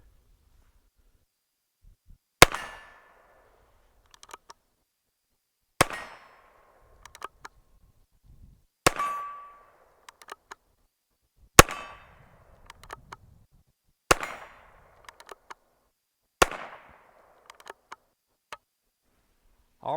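Heritage Rough Rider Rancher revolver fired at targets: seven sharp, loud shots spaced a few seconds apart, each with a ringing metallic ping of steel being hit and a short decay, with quiet pauses in between.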